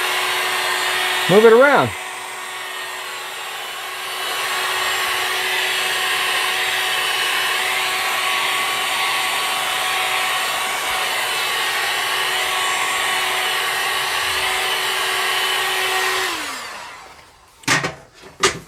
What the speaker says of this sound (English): What's cool is you can take your heat gun